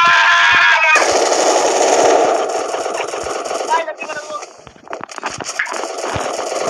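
Rapid automatic gunfire bursts in the shooter game Free Fire, loud and close, then scattered shots continue as players shout over the action.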